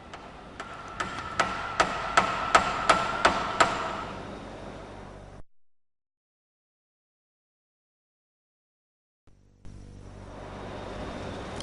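A hammer strikes a metal chisel about nine times in a steady rhythm, each blow ringing sharply and close by in an automotive workshop; silence follows, then a low hum begins.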